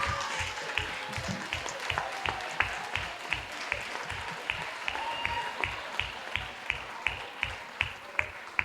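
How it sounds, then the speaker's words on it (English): A crowd at a circular-economy pitch night claps in a steady rhythmic beat, many hands hitting in unison at a quick regular pace, moderately quiet and continuous throughout. "keep clapping, keep clapping"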